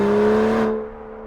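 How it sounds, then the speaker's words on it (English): A 2018 Aston Martin DB11 V12 in Sport Plus mode revs with a loud, smooth engine tone, then the note falls away as the throttle closes. "It is so classy and such a smooth sound because it's a V12."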